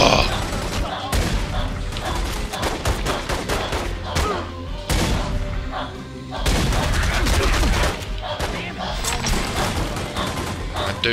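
Shotgun blasts and other gunfire ring out in The Godfather 2 video game, loud repeated bangs over a dense mix of game sound and voices, with a short lull before a second burst of firing.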